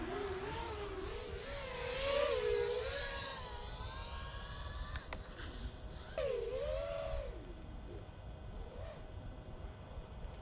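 A GEPRC Tern LR40 FPV drone's motors whine under heavy throttle, a high-pitched, buzzing tone that rises and falls with speed, surging twice as the throttle is pushed, close and steady over wind noise.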